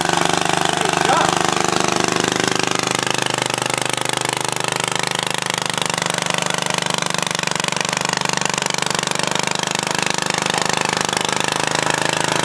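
An antique walk-behind tractor engine runs steadily and loudly close by, a continuous rough drone with no pauses.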